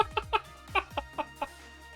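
A chicken in the video game Ghost Trick gives a string of about seven short, sharp clucks in an uneven rhythm, fairly close and alone with no talk.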